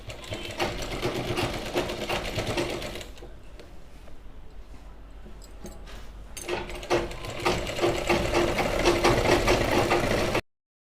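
Electric sewing machine stitching the hem of a salwar, running in a fast whirring rattle with a brief pause midway before resuming and stopping abruptly, close up.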